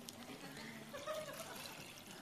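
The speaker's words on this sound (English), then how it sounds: "So I'm going to take this really filthy water and put it in here." Filthy water pours into a filter container, a soft, faint trickle and splash running steadily for a couple of seconds with low room noise behind it.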